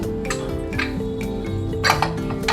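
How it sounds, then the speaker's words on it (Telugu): A metal lid is lifted off a cooker of Telangana-style bagara rice, with several light metallic clinks and clatters over a low, steady kitchen background. "మూత తీస్తున్నాను"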